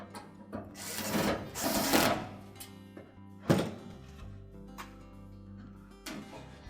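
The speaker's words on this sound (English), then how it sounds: "And then we'll reinstall the two screws into the lint filter opening." Short whirring bursts from a power screwdriver driving two screws into the lint filter opening of a Whirlpool dryer, followed by a dull knock and quieter mechanical clicks.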